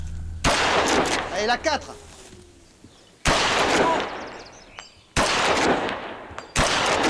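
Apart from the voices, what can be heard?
gunshots at a shooting range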